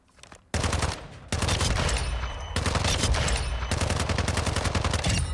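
Automatic weapon fire in Call of Duty Modern Warfare crackles in long, rapid bursts after a brief quiet start, loud and close, with short gaps between sustained volleys and no talk.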